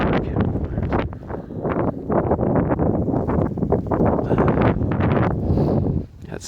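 Blizzard wind roars down a New York City street in heavy snow, loud and gusty with constant buffeting rushes and rustling of debris, easing near the end.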